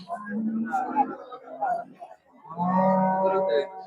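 A cow moos twice, close by at a cattle market, long low calls separated by a short pause.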